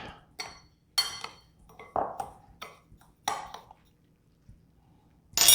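A spoon clinks against a bowl while sugar and salt are mixed into a rib rub, making a series of bright pings and scraping taps in an irregular rhythm, close and fairly loud, with quiet gaps between strokes.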